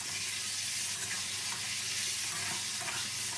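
Bean sprouts being stir-fried in a pan with oyster sauce, seasoning powder, light soy sauce and sugar, a steady close sizzle with soft scraping and tossing throughout, no voices.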